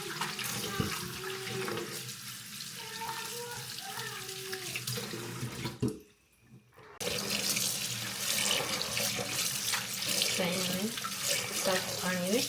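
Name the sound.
mustard leaves being washed under running tap water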